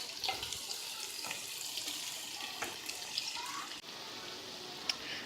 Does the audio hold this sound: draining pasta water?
yes